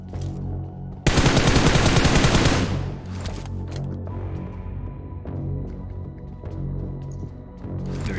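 Burst of automatic gunfire in a squad-based shooter game, a loud dense volley for about a second and a half, then quieter scattered shots and game noise.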